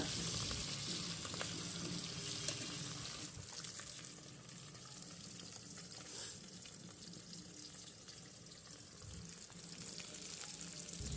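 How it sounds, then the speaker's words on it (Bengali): Fish frying medium in oil in a home kitchen, a soft continuous sizzle with faint watery crackle, fairly quiet and steady throughout, with no voices. "মাছগুলো মিডিয়াম করে ভাজবো, খুব কড়া করে ভাজবো না"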